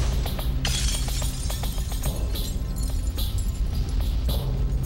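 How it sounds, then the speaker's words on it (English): Glass shatters and breaks over and over, a dense series of crashes and tinkling shards recalling Kristallnacht, loud and continuous. "Kristallnacht, the night of broken glass."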